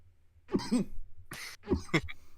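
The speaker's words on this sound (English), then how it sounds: "I'm trying to muffle the cough." Several short, harsh coughs close by from seasoning caught in the throat, in two bursts with a brief pause between, the second pair sharper and louder.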